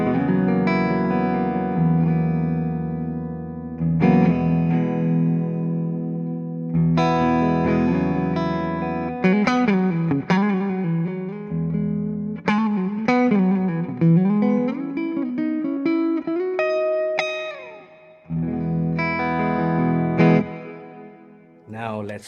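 Electric guitar through a Fractal Audio VP4 with reverb pre-delay, playing chords and melodic lines with a spacious reverb tail and delayed echoes, loud and continuous with a few short pauses.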